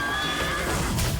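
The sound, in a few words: undead horse neighing in video game Titan Quest 2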